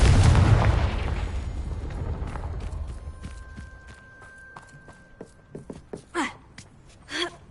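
A Confringo blasting spell explodes in Hogwarts Legacy with a loud, close boom at the start that rumbles and fades over a few seconds, followed by scattered footsteps and small impacts.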